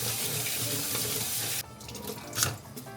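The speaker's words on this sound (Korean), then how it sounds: "면이 다 되면은 면을 물에 한번 헹궈주는 게 좋아요" Cooked noodles being rinsed under a running kitchen tap, with a steady rush of water that cuts off partway and gives way to softer splashing and dripping.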